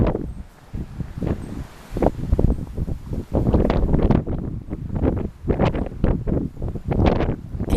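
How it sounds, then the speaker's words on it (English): Strong gusty wind buffets a microphone outdoors, a loud, continuous roar with rustling surges that rise and fall throughout, no talking. "Did you hear the wind, guys? It's so strong that I had to hold on to my tripod."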